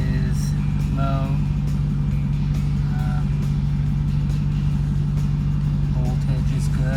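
A just-started car engine idles steadily with a low, constant hum and rumble throughout, loud and close, while a person talks over it.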